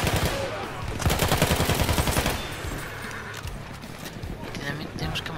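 A horse in the Battlefield 1 video game amid a battle, its hooves and whinny mixed with loud bursts of gunfire and machine-gun fire in a busy, dense mix.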